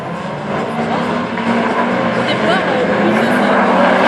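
Race cars battling wheel to wheel in a folkrace-style circuit competition in Mayenne, a loud continuous roar of engines with tyre noise, under excited commentary from an announcer.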